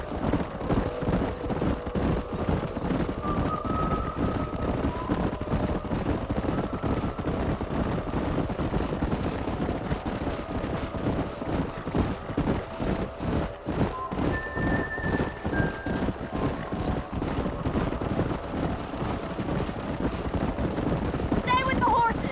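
Horses gallop in Red Dead Redemption, a steady drumming of many hooves running together close by, with occasional whinnies rising over the continuous clip-clop for the full stretch.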